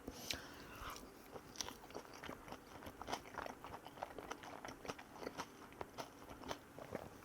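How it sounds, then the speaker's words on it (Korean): Close, faint bites and chewing of takoyaki topped with Cheongyang chili peppers, soft crunches and wet mastication repeating in an irregular rhythm. "청양고추랑 같이 타코야끼 한입 하겠습니다"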